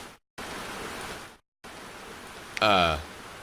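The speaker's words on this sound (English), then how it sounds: "Chill out to the sound of rain a bit, Hunter." Steady rain ambience from the video game Minotaur, a broad hiss broken by two short dropouts, with a brief tonal game sound near the end.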